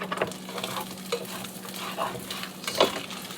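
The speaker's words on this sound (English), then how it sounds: "Scrape the pan a bit." A spatula scrapes across a skillet after meatballs have cooked, producing several short rasping strokes over a soft background sizzle, fairly quiet and close, with no talking.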